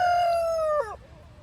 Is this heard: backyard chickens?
yes